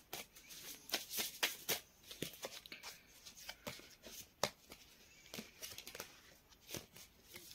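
Tarot cards being pulled from a deck and handled, close by: a quiet, irregular run of crisp card snaps, slides and shuffling flicks with brief pauses between them, and no talking.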